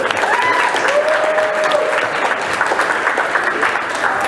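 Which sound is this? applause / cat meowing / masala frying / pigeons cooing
applause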